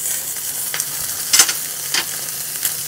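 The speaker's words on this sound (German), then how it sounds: "Wie lange muss das jetzt anbraten? 1 bis 2 Minuten pro Seite, bis er schöne Farbe hat." Ribeye steak searing in a hot pan, a close, crackling sizzle with a few sharper pops and spatters, no voices.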